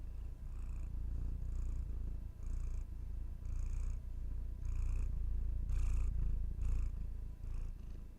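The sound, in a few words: cats purring in lap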